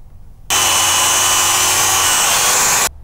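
A grinder trims back the top of a car body mount to fit a chop plate, a loud continuous close-up whine that starts abruptly and cuts off cleanly after a couple of seconds.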